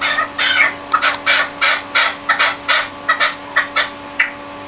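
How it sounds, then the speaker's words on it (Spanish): Partridge chick giving a run of about a dozen short, bright chirping calls in a steady rhythm, fairly close and clear over a faint background hum, no talking. "ese que está curicheando es otro de los pollitos"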